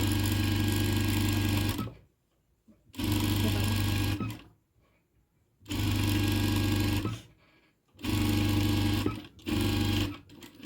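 A sewing machine stitches a puffy-sleeve princess-cut blouse in four runs of steady whirring, each a few seconds long, separated by short silent pauses, close up and alone.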